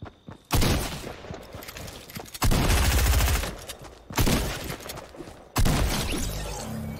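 Gunfire in the PUBG video game comes in several loud bursts of rapid shots, each lasting over a second, separated by short quieter gaps.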